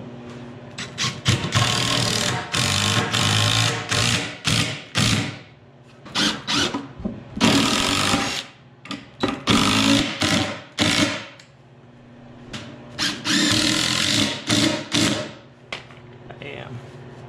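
A power drill driving RSS rugged structural screws in a workshop, giving repeated loud bursts of whirring and grinding, several seconds each, separated by short pauses.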